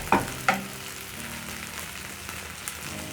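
Butter goes into a pan of slowly caramelized onions, with two sharp crackling bursts at the start settling into a low, steady sizzle with faint stirring.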